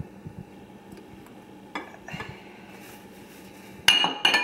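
Foie gras set down into a dish with a few soft clinks and taps of crockery, quiet at first and then a brighter clatter of dish and utensil near the end, with no talking.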